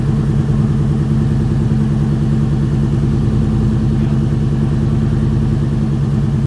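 A prototype truck with a traditional combustion engine running on an alternative fuel, heard up close as a steady, loud, throbbing low rumble that holds an even pace throughout, with no voices.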